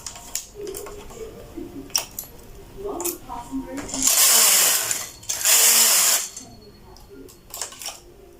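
A knitting machine knitting adult shorts sends its carriage across in two loud, rushing passes lasting about a second each, amid small clicks of needle transfers, with a person talking quietly in between.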